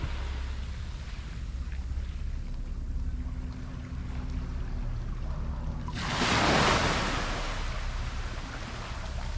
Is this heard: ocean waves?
yes